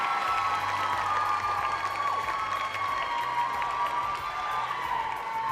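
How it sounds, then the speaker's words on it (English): An audience in a pageant hall applauds with scattered cheers, the clapping and crowd noise steady throughout while music plays underneath. "Let's give a round of applause for the remaining girls from the top 10."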